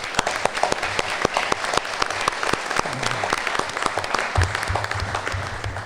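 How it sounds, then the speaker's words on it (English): An audience at a county candidates forum breaks into a round of applause, many hands clapping densely and continuously, with a few sharper claps standing out and a low murmur underneath. "huge round of applause for those."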